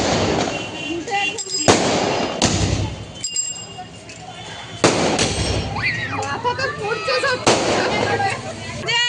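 Firecrackers bursting outdoors, sharp loud bangs coming in pairs at irregular intervals, with voices and background chatter running throughout.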